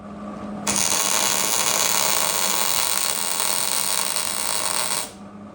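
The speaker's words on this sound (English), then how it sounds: "All right, now we'll weld these in." Welding spring bushing parts on a 1969 Dodge Charger: a loud, steady electric crackle and hiss begins abruptly after a quiet hum and runs continuously for about four and a half seconds before cutting off.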